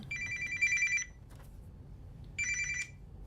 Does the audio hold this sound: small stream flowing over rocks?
no